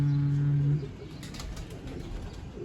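A pigeon gives a low, throaty coo up close, then it fades into quieter outdoor ambience with soft rustling.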